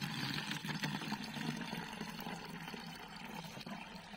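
Lemon water poured into a 1 litre bottle: a steady, close gurgling pour of liquid with no talk.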